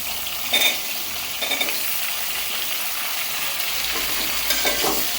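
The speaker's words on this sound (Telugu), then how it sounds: "పచ్చిమిర్చి మంచిగా వేగుతుంది కదా" Green chillies and tomatoes fry in a pan for tomato roti pachadi, a continuous close sizzle broken by occasional clinks and scrapes of stirring, no voices.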